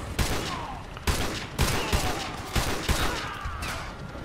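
Repeated gunfire from a Call of Duty: Modern Warfare 2 sniper mission, with sharp loud shots spaced roughly every half second amid a dense battle din.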